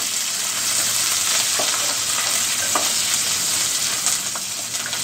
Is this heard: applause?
no